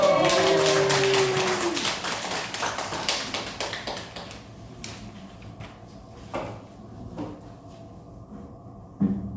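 A small congregation at a worship service in a rehabilitation nursing home claps briskly at first, then the clapping dwindles to a few sparse, isolated claps in a quiet room.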